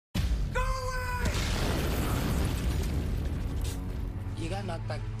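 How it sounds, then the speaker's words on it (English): A loud explosion in the TV drama Chicago Fire erupts and rumbles on as a sustained roar, with a brief tonal whine early on and faint voices near the end. "You got knocked back pretty hard by that explosion"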